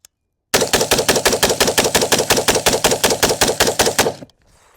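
A PSA Sabre-10A1 .308 AR-10 rifle with a 16-inch barrel fires a rapid string of about twenty loud shots in even succession. Each crack is sharp and close, and the string ends abruptly, leaving faint ringing.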